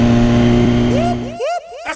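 A police car's engine revs in a dense mechanical roar with rising and falling pitch sweeps, close and loud, as the drone cuts back into repeated rev bursts.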